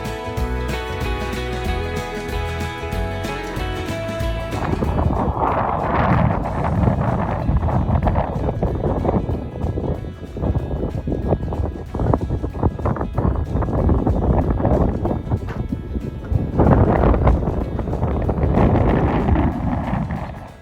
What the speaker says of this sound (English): it's kind of just open and windy here